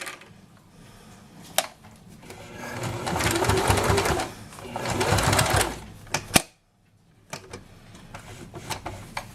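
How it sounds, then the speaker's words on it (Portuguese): A sewing machine stitches a strip of bias tape onto fabric for a small card wallet, running in steady bursts of rapid stitching with short pauses and a brief silent break partway through. "vou posicionar aqui esse pedacinho de viés e passar uma costurinha pra segurar ele"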